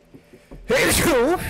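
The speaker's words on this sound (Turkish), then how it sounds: "Bir dakika üzerinize hapşırmak üzereyim beyefendi." A character in the video game Contraband Police lets out a sharp, loud sneeze after a couple of faint breathy intakes, with a drawn-out voiced tail.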